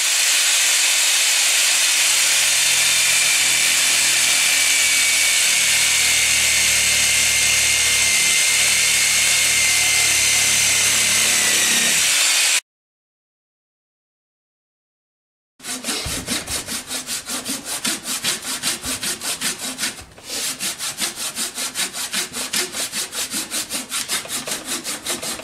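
A borrowed jigsaw saws through a green wooden sapling being shaped into a bow, a loud steady rasping cut that stops for a few seconds, then resumes with rapid buzzing strokes.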